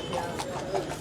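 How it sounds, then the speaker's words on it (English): Horses clip-clopping past on a sunny street in Marrakesh, near the tombs where carriages ply, their hoofbeats close and steady beneath a busy mix of nearby voices. "Watch out for the horses."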